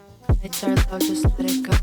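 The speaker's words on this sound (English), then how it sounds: "See how the dub echo keeps going?" A voice or synth stab with descending pitch sweeps, each hit trailing into repeating echoes that keep sounding after the original note.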